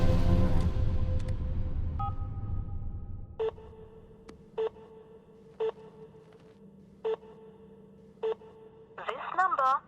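A phone line in an action scene: two ringback-style dual tones, then five evenly spaced short beeps over a hum, ending in a burst of warbling tones, with loud noisy sound at the start.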